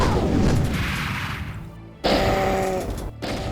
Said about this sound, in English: Lava barrels deal insane damage, but they only reach about 2 squares with their explosion.